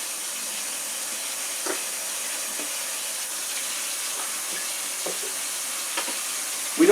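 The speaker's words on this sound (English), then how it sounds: "Okay, now let us get a small pan of water." Water running from a kitchen tap into a small pan for washing dishes, a steady close hiss of flow lasting throughout with a few faint clinks, no talking.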